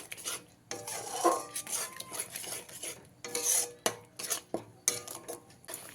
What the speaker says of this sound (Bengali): আর দইটা দেওয়ার পরে ততক্ষণ কষিয়ে নিতে হবে যতক্ষণ পর্যন্ত না সম্পূর্ণ তেলটা ছেড়ে আসছে